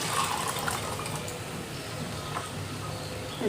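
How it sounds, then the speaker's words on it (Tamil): Boiled chickpeas and their cooking water poured into a pan for a poori and chapati side dish, giving a steady close splashing, gurgling flow for the whole stretch, with no talk over it. "இப்போது அந்த சென்னை ஊற்றிடுவோம் சென்னா தண்ணியோட"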